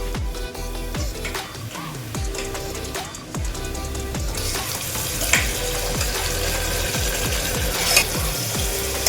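Mutton mixed with onion, ginger, garlic, tomato, salt, turmeric and mustard oil is stirred into softened frying onions. Loud continuous sizzling runs under a steady rhythm of repeated metal spatula scrapes against the pan.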